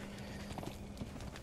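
Horse hooves clip-clopping in Conan Exiles, a quick, faint run of soft thuds over steady background hum, brief and uneven.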